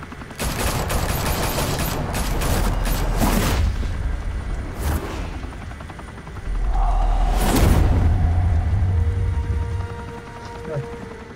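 Gunfire and explosions burst out in a Batman: The Telltale Series fight scene, dense rattling volleys with heavy booms and rumbling, loud and close, with voices speaking over the action.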